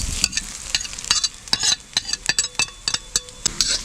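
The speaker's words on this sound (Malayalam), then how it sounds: "തേങ്ങ ഇട്ട് കഴിഞ്ഞാൽ നമുക്കത് ഇളക്കി കൊടുക്കാം." Grated coconut frying in coconut oil for a Kerala catfish curry is stirred in a pan, with a quick series of close, sharp scrapes and clinks from the spoon over a soft sizzle.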